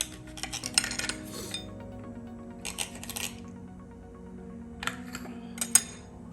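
A knife cuts a couple of wedges on a dish, with several sharp clinks and scrapes of metal on crockery in short bursts separated by quieter gaps, close by.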